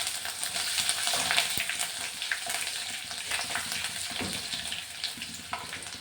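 Crushed ginger and garlic sizzle steadily in a hot pan of oil, a dense, close crackle with a few soft stirring scrapes and no talking.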